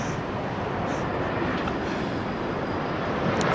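A jet airliner with Pratt & Whitney engines roars at Heathrow Airport on a windy day, a loud, steady broadband rumble that holds for several seconds with no pause.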